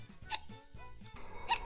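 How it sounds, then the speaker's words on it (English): A clown-persona streamer lets out short, close hiccups, a couple of quick throaty clicks within under two seconds. "Sorry, I have a hiccup."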